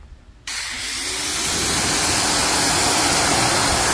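A garden hose suddenly opens into a loud, steady hiss of spraying water rinsing a ceramic-coated 2022 Kia Carnival, continuing nearby without pause.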